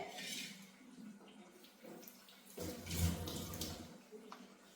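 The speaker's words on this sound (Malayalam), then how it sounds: "കുറച്ചുകൂടെ വെള്ളം ചേർത്ത് കൊടുക്കാം" A brief gush of water pours into a pot of curry, a short splashing burst amid quiet kitchen background, fairly faint overall.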